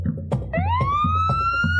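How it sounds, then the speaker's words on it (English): A volunteer fire department siren at a Christmas parade rises in a loud wailing sweep and holds steady over a marching beat of drums, close and prominent. "When I hear those sirens"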